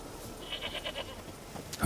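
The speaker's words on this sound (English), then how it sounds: "Here, goat." A goat bleats several times in a row, a series of short wavering calls close by, with a sharper noise at the end.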